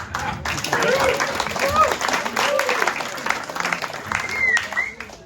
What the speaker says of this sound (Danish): Det må jeg godt lige klappe af jer selv for.